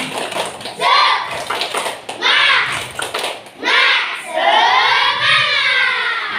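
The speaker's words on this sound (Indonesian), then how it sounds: "Tepuk semangat" Schoolchildren in a classroom doing the tepuk semangat clapping chant, bursts of rhythmic clapping mixed with shouted chanting voices in several rising waves, loud and close.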